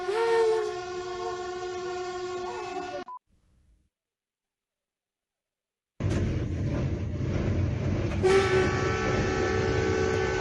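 A loud train horn blares as a warning to a cow on the tracks, cuts to silence for a few seconds, then blasts again over the rumble of a passing train.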